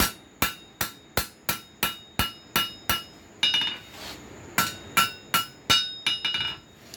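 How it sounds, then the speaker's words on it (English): Rapid, evenly spaced planishing hammer blows ring out on slot jaw tong blanks, sharp close metallic strikes in a steady rhythm with a brief pause midway before resuming. "I'm just trying to planish out the imperfections."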